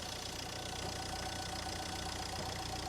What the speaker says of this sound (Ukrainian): Двигун працює у нас рівнесенько, немає жодних запотівань, підтікань